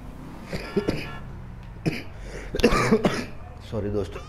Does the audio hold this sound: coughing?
yes